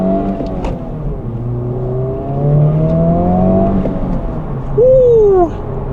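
A 2024 Honda Civic Type R accelerating hard in R+ mode, heard from inside the cabin: a steady, loud engine drone rising in pitch through the gears, with a brief tonal whine near the end.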